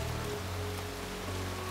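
Heavy rain pours in a dense, unbroken hiss over a low rumble, loud and steady with no voices in this animated scene of a storm growing harder.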